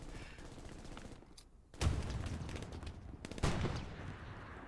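Gunfire from a video game tank-and-infantry battle, with scattered shots and bursts crackling at moderate distance, including two sharp louder reports amid continuous battlefield noise.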